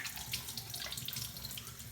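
Tap water runs steadily into a sink during handwashing with soap, a continuous close splashing hiss with no voices.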